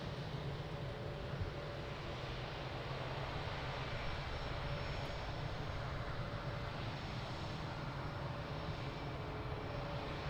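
Airliner jet engines rumble steadily at Lisbon Airport by runway 02, a continuous broadband roar with low droning tones holding evenly throughout, moderately distant and alone without voices.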